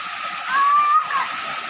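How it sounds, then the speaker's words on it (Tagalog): Broadband rushing of a waterfall pouring into water inside a cave along a river, steady and close, with a talking voice over the roar. "Cave na falls."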